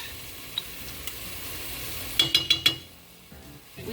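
Minced garlic is stirred in melted butter in a pot for gumbo: a soft, steady sizzle sits under four quick metallic clinks of the spoon against the pan.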